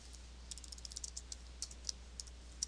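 Java code typed on a computer keyboard, a quick run of light clicking keystrokes in short uneven bursts, faint and close over a low steady hum, with no speech.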